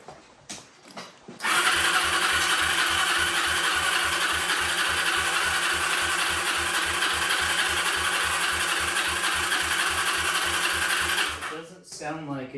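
A Yamaha Breeze four-wheeler's starter cranks steadily for about ten seconds in a fast, even chugging whir without the engine catching, then stops, with brief talk before and after.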